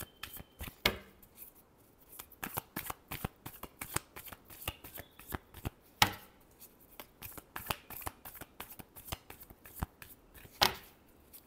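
Tarot-style reading cards are shuffled by hand in quick, crisp riffles and slaps, a dense run of close, clicking flutters with brief pauses and no talking.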